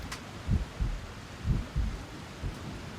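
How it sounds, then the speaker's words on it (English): Slow, muffled heartbeat thumping from a creature's egg in the adventure game Amerzone, in soft lub-dub pairs repeating steadily about once a second over a quiet ambient backdrop, with no voices. "Is it making any more different noises, maybe? Just the heartbeat."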